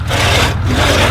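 A fairly blunt hand saw cuts through wood at an outdoor ploughing match, a close, rough rasping stroke running steadily with no speech.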